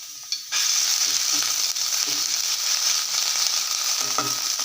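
Ginger garlic paste hits hot oil in a pan that already holds popped mustard seeds, and a loud, dense sizzle bursts in and then holds steady and close, with occasional stirring scrapes.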